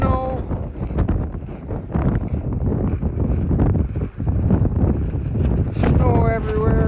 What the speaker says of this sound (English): 30 and 50 mile-an-hour wind gusts today.